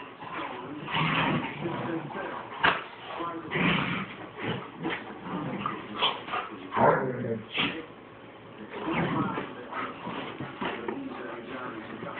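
Puppies yip, whimper and scuffle while playing, close and lively, mixed with people talking and laughing over them.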